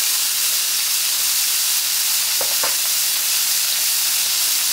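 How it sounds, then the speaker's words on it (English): A pot roast searing in a hot pan on high heat, a loud, dense, continuous sizzle and hiss close up, with two brief utensil taps partway through and no talking. "And we'll let that cook and sear on the other side."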